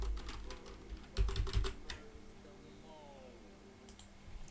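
Fingers tap a computer keyboard in a quick cluster of close, light key clicks, then a few scattered taps over a quiet background.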